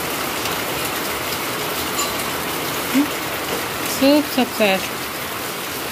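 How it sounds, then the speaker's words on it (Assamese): Steady rain falls outside as a dense, even hiss, while a voice speaks briefly partway through. "বৰষুণ দি আছে"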